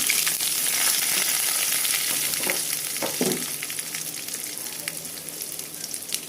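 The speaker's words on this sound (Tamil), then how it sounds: "வானல் காஞ்ச உடனே எண்ணெய் ஊற்றிட்டு கடுகு போட்டு விட்டுறேன்" Mustard seeds sizzle and crackle steadily in hot oil, a dense frying hiss with a few brief stirring scrapes, gradually settling.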